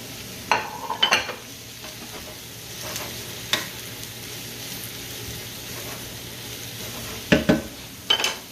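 Mushrooms and garlic sizzle softly in a frying pan for a frittata, a low steady hiss broken by a few sharp clinks and scrapes of stirring, close by with no talking.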